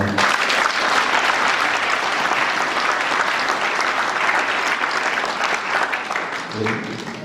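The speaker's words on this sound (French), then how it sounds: "On applaudit Junior." Wedding guests applauding during vows, dense sustained clapping from a close crowd that fills the room and fades slightly near the end.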